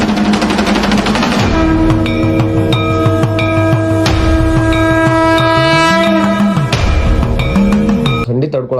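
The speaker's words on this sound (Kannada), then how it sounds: "ಇದು ಪ್ರಯಾಗ್ರಾಜ್ ರೈಲ್ವೆ ಸ್ಟೇಷನ್." Busy railway station at Prayagraj, with a sustained loud train horn holding steady tones for several seconds amid constant station noise and rumble, the horn's pitch bending near the end.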